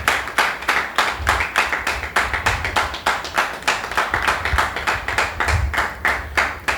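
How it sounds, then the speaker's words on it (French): An audience claps for a guest being welcomed at a talk on executive secretarial and assistant work, a fast, steady, rhythmic clapping of even beats that continues throughout with no voices. "Sous vos applaudissements, s'il vous plaît."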